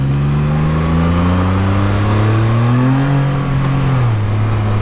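A Can-Am Spyder F3-S fitted with an Akrapovic exhaust pulls hard through the gears, its loud, close engine note climbing steadily in pitch and then dropping at a shift near the end.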